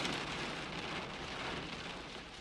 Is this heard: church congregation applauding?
no